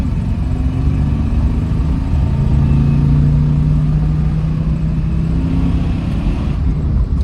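A 1978 Chevy C30 dually truck, parked for 29 years, runs with a steady low engine drone, a constant loud mid-pitched hum with a faint rising note in the middle, heard from inside the cab.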